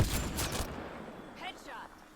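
Gunfire in Mass Effect: Andromeda, a loud rapid burst of shots at the start that quickly fades, followed by a brief voice.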